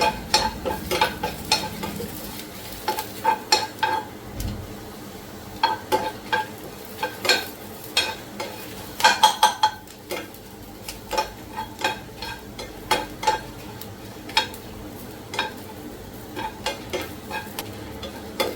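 Whole spices dry-roast in a pan for mutton sukka masala, stirred with a spatula that scrapes and taps in an irregular rhythm over a faint, soft rustle of the spices, with no voices.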